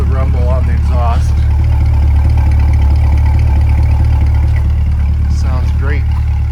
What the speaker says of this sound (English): Love the rumble on the exhaust.